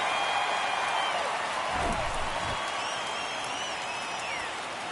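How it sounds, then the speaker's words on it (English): A baseball crowd in Atlanta at Game 5 of the Astros–Braves World Series roars and cheers as a broad, steady wash of distant noise with faint whistles, sustained throughout at moderate level. "Crowd on their feet here in Atlanta."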